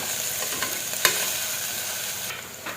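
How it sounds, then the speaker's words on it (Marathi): Grated fresh coconut and chopped coriander fry in hot oil with a steady close sizzle, broken by a few sharp scrapes of a spoon against the pan, one louder near the middle and another at the end. "आता तेलामध्ये ओलं खोबरं पण परतून घ्यायचं"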